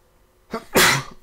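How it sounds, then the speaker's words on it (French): A single loud, close human sneeze bursts out after a short indrawn breath. "je vais éternuer."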